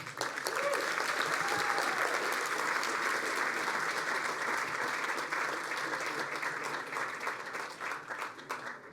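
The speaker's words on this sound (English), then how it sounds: "You guys all deserve a big round of applause." Audience at an awards benefit gala gives a round of applause, broad and sustained, gradually thinning toward the end, with faint voices mixed underneath.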